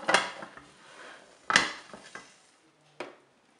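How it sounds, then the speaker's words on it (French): A large plate is set down over the metal bowl of a Cookeo multicooker to flip an omelette, giving a few sharp ceramic-on-metal clinks and scrapes, close and fairly quiet, with no talking. "je vais passer une grande assiette sur la cuve"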